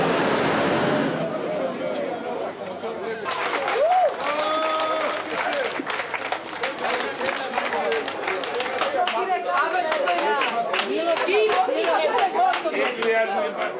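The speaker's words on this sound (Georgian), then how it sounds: "ისინი საქალაქო სასამართლოს გადაწყვეტილებას ოვაციებით შეხვდნენ" Party members and supporters gathered in a courtyard applaud a city court decision, sustained crowd clapping with cheering voices and general chatter throughout.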